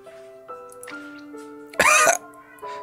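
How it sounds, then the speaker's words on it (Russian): A single harsh cough in a visual novel scene, loud and close, bursting out over soft sustained musical tones, with no talking. "Ни с того ни с сего на меня напал кашель."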